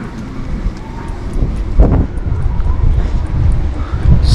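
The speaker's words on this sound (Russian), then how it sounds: "Сильный ветер." Strong wind at the Black Sea coast in Lazarevskoye buffets the microphone with a continuous roaring rumble, gusting louder at moments, with distant surf noise beneath.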